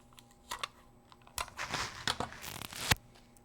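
Scotch tape is pulled off and pressed down to hold an artificial nail tip during nail work, giving close, scattered crackling rips and light taps that bunch into a busier burst toward the end.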